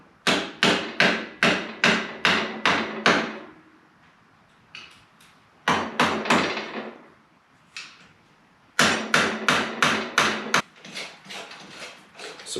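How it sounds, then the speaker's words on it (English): A hammer knocks down the locking tabs on the steering stem nut of a 1980 Harley-Davidson FLT Shovelhead, three bursts of sharp metallic blows, about six to eight rapid strikes each, with quiet pauses between. "I'm going to knock these little ears down that hold this nut in place"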